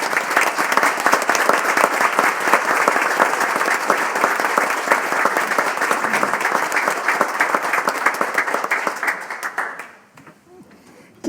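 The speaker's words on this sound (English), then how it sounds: "Let us please give her a round of applause." A room full of people at a city council meeting applauds warmly for about ten seconds, steady clapping that tapers off and fades near the end.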